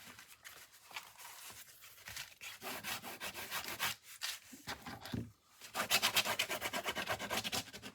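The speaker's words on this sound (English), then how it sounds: "Burnish it down a little bit to make sure that it has a good stick to it." Packaging being burnished down by hand, producing dry rhythmic rubbing and scraping strokes, close and moderately loud, in short bursts separated by pauses.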